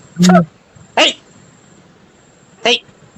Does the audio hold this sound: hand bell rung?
no